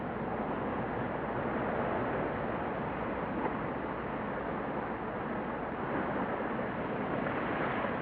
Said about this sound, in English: perhaps attracted by the sound of the waves